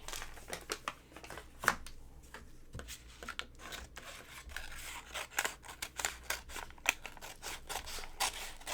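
Scissors snip through paper for a mini album craft project, a series of close, crisp cuts with irregular rhythm alongside light paper rustling and crinkling.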